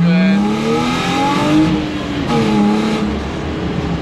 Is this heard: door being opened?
no